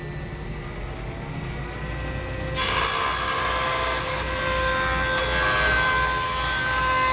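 A power saw cuts rough walnut lumber into lengths for a shuffleboard table build. A steady machine hum runs throughout and rises into a louder, sustained cutting whine partway through, close and continuous, with no talking.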